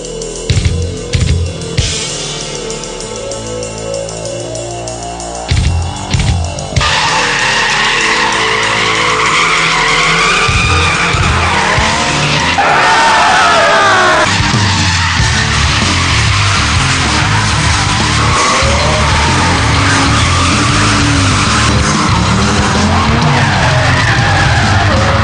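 Several cars drift one after another along a twisty mountain road in Japan, their tires squealing and skidding under loud, continuous engine noise.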